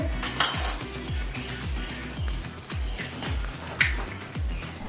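A fork whisks a single egg in a bowl for frying kababs, producing a steady, rhythmic run of close metallic clinks against the dish with no talking.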